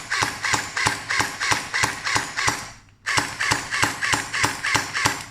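MST AKS-74U gel blaster fired on semi-auto, a steady string of sharp, close mechanical shots about two per second, pausing briefly midway before resuming at the same slow pace, no talk.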